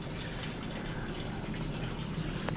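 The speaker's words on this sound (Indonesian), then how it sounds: "itu waterfall yang biasanya saya menggunakan pompa ya 4000 liter per jam" Steady rush of a koi pond waterfall fed by a 4000-liter-per-hour pump, water splashing continuously at close range with an even, unbroken wash and no talk.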